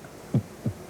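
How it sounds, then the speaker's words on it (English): Two heavy, low heartbeat thumps, close and isolated, roughly a third of a second apart over a quiet background. "You hear your heartbeat, you hear your breaths"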